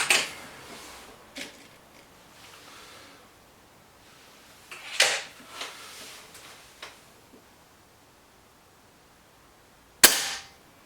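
Air rifle shots from a BSA Lightning SE and a Webley Xocet in a head-to-head shooting contest: sharp, close cracks, one at the start, one around five seconds and one near ten seconds, with faint ticks in between and no talking.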